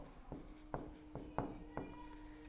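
Marker or chalk strokes on a classroom board, a handful of short scratchy swipes spaced about half a second apart, close and fairly quiet over a faint steady hum.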